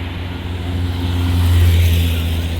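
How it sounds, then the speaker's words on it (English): Road traffic in Berlin: a nearby vehicle's low engine rumble swells louder through the middle, then eases slightly, over a continuous background hum. "You have to wait. It's traffic."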